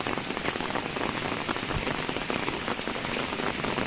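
Steady rain falls over farm fields at the onset of the monsoon, a dense, even patter close by and continuous throughout, with no voices.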